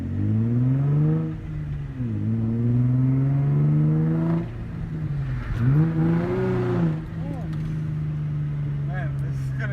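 Nissan 350z engine revving hard through several rising and falling pulls on a test drive, loud and close with a steady harmonic drone, people talking over it.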